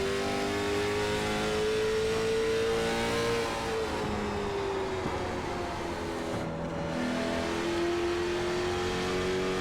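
A late model stock car engine roars in iRacing at North Wilkesboro Speedway, a loud continuous drone whose pitch rises and dips as the throttle is worked through the lap.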